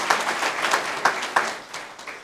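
A church congregation at an anniversary service claps in scattered, uneven bursts that gradually thin out and fade.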